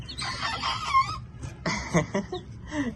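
Young chicks about 43 days old attempting their first crows, thin, cracking and uneven calls close by, with soft clucks and brief gaps between them and no talk.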